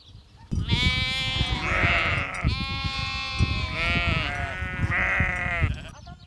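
A flock of sheep on a sheep farm bleats in overlapping, drawn-out calls, several loud nearby voices repeating in succession over a busy background of the flock.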